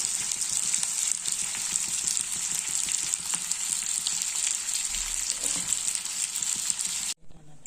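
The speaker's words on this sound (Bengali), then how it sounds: "এই যে আলুর দমই হচ্ছে, এখন কষানো হচ্ছে" Potatoes for aloo dum sauté in a hot pan, a constant loud sizzle with repeated stirring scrapes close up, cutting off abruptly at the end.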